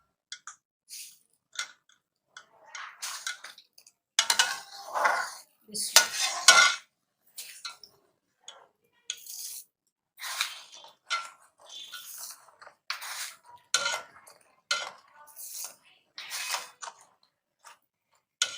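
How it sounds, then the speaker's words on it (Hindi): Spoonfuls of sugar going into a mango and milk mixture in a cooking pot, heard as repeated close metallic clinks and scrapes of a spoon against the pot in irregular bursts, with no talk. "अब मैं इसमें चीनी डाल दूँगी।"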